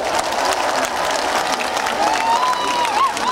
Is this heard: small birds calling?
no